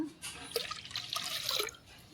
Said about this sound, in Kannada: ನಮಗೆ ಎಷ್ಟು ನೀರು ಬೇಕೋ ಅಷ್ಟು ನೀರು ಹಾಕೊಳ್ಳೋಣ